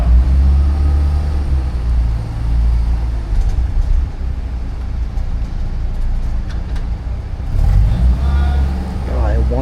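A 1990s manual car drives through Osaka streets among other street-racing cars, its engine a steady loud low rumble throughout, with a brief rise in revs near the end and traffic noise around it.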